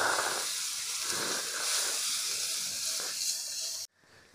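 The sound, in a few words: sautéing garlic, chili, ginger and cumin paste in pan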